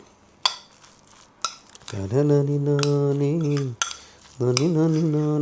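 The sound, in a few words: stirring roadside masala with spice powder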